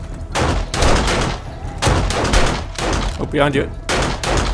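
Bursts of heavy automatic gunfire in the video game 7 Days to Die rattle loudly in repeated volleys with short pauses between them, while a voice speaks briefly over the shooting.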